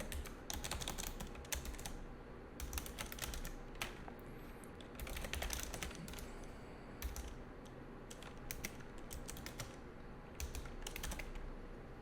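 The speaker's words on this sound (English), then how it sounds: "now you can just type, and in parentheses, maybe I want my R squared in there" Bursts of computer keyboard typing, quick runs of close, crisp key clicks separated by short pauses, steady and alone in a quiet room.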